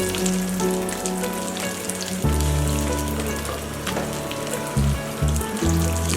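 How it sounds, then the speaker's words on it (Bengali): Rohu fish fries slowly in hot oil with a steady crackling sizzle that swells and shifts as the pieces are moved, with no talk. "মাছটা একটু মানে আস্তে আস্তে করে ভাজতে হয়"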